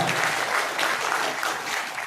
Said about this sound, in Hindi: एक बार आदित्य यादव जी के लिए एक बार तालियां बजा दीजिए